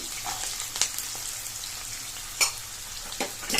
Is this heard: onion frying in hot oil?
yes